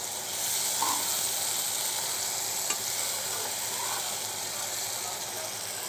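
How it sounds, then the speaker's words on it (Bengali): A sautéed spice mixture is stirred in a frying pan. It gives a constant bright hiss of sizzling oil with occasional faint scrapes and one small tap, and no voices. "আর একটু নেড়ে চেড়ে দেই।"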